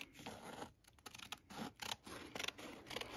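Scissors snipping through freezer paper by hand, a run of crisp close cuts and scratchy paper rustles in quick irregular bursts, with no talking.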